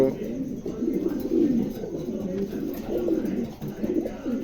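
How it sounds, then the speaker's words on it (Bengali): A pair of pigeons kept for sale coo in low, rolling, repeated calls close by, with faint voices murmuring in the background. "চমৎকার এক জোড়া কবুতর"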